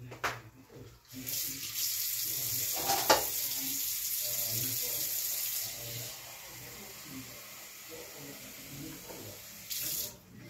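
Water poured into a pan of chicken adobo gives a steady, rushing splash that runs for several seconds, eases off, then briefly surges again near the end. No one speaks.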